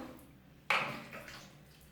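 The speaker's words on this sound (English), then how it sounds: "You can pour little more water if you want" Water poured from a small vessel over scrubbed hands into a bucket, one sudden close splash that trails off quickly in quiet room ambience.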